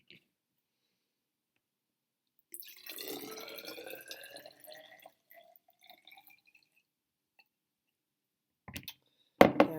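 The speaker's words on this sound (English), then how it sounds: "I'm going to pour it into my measuring cup again and use that special measuring tool, my graduated cylinder" Water poured into a graduated cylinder during an evaporation experiment, a short splashy pour of a few seconds that trails off into faint drips, followed by brief clunks near the end.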